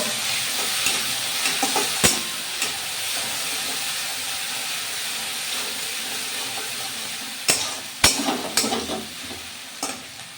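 Ginger garlic paste and onion fry in a pan, a continuous sizzle under scraping stirs, with a few sharp spoon knocks at the start and several near the end.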